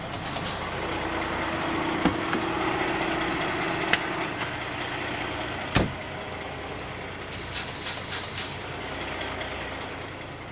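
A heavy truck idles steadily in a yard as the driver prepares to drive out with a hose attached during an unload, with a few sharp air-brake hisses and knocks over the low, continuous rumble.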